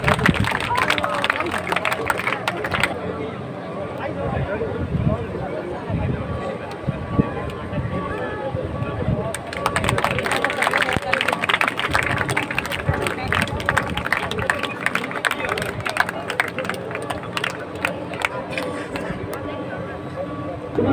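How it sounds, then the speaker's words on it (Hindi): An audience at an outdoor village ceremony in Sardargarhia applauding the female deputy sarpanch: a dense, crackling patter of many hands clapping, strongest in the second half, under a loud amplified voice addressing the crowd. "सब तालियां बजाएं हमारी महिला उप सरपंच को"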